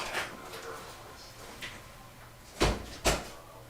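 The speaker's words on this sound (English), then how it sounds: "Hey, just close that door." Two sharp, solid knocks of a door being shut nearby, close together near the end, following a stretch of faint room noise with quiet voices in the background.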